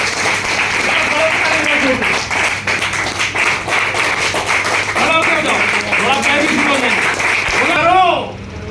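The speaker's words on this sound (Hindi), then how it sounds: "ताली बजाओ" An audience at a Hindi motivational talk claps on request, a loud, dense burst of applause that keeps going steadily for about eight seconds and then stops abruptly.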